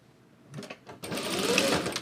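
A sewing machine backstitches along a fabric edge, a short stuttering burst of stitching followed by a faster continuous run, close and fairly quiet, with no talking.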